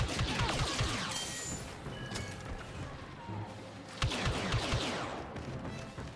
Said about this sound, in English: trading grenades